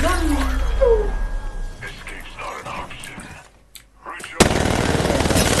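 Gunshots crack amid Apex Legends game noise and voices, followed by a loud, sustained burst of rapid fire at the end.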